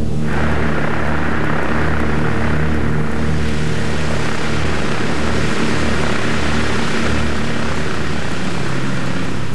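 Deep, throbbing drone of two 1,200 horsepower Pratt & Whitney Twin Wasp radial piston engines on a cargo plane, loud and continuous with a pulsing low rumble, no voices.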